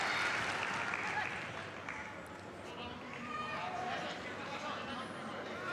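A home crowd cheers steadily at a climbing competition in the Portugal Grand Prix finals, a loud, continuous roar of voices and applause that runs throughout with a slight dip in the middle.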